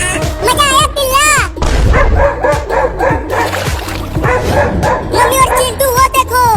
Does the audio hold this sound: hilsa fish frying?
no